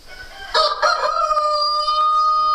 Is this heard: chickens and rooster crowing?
yes